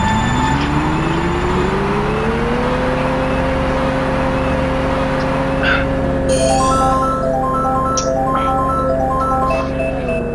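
Kart engines drone loud and continuous in Mario Kart 64 on Luigi's Raceway, their pitch rising as the karts speed up after the start. Short game jingles and effect sounds play over the engines, with no talking.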